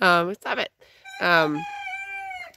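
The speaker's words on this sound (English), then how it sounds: "that other one right there with the little red comb is also a rooster" A rooster crowing among farm chickens, one with a small red comb, gives a single loud drawn-out crow that trails off, preceded by a person speaking briefly nearby.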